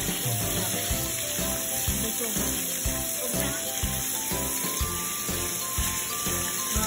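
Meat browning in a pan for kare-kare, a dense, loud continuous sizzle with a rhythmic pulsing texture close by, steady throughout.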